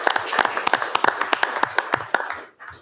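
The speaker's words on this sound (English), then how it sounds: "So a little round of applause for Chris" Short burst of audience applause for Chris Nadeau, Junior Explorer of the Year, at a town selectmen meeting: dense rapid clapping from a small crowd, steady for over two seconds, then quickly tapering off with a last few claps.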